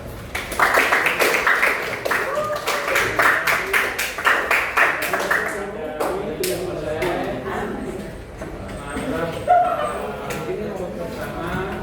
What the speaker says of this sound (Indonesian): kasih tepuk tangan kita.